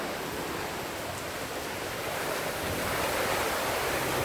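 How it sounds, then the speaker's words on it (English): Strong wind gusts during Hurricane Irma roar as a steady broadband rush for the whole stretch, swelling slightly louder toward the end, with no voices. "You know, we get sporadic gusts like this."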